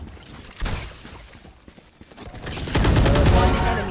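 An AK rifle fires in the video game Valorant, a dense rapid burst of loud crackling shots toward the end, after scattered quieter game sounds, with no talking.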